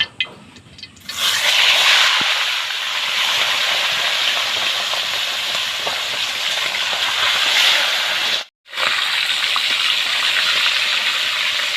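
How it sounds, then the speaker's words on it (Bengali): A loud, steady sizzle of chicken pieces frying in hot oil rises after a quiet start and continues, briefly cutting out before resuming. "তেল গরম হয়ে গেছে আমি এখন একটা একটা করে ছেড়ে দিচ্ছি"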